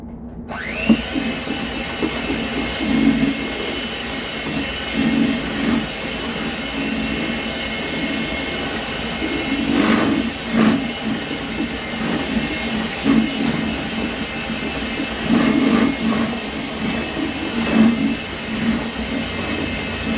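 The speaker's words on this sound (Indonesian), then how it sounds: "Terus kita mixer lagi ya biar lembut, biar kalis itu adonannya, biar nggak menggerindil." An electric mixer beats martabak lenggang batter in a home kitchen, a steady high motor whine running throughout with a faint rhythmic knocking as the beaters catch the bowl, loud and close with no talking.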